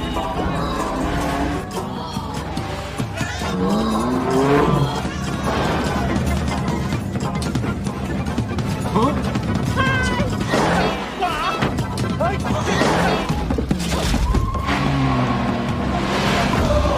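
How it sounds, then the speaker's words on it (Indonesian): A race car in a film roars off to rejoin the race, engine revving loudly amid crashes, thuds and score music, with voices mixed in throughout. "Saat mobil nyala, mereka bertiga kemudian bergegas tancap gas ngelanjutin balapan."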